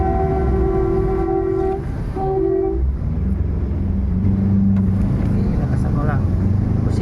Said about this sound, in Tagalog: Sabayan mo ng busina, mabilis yan.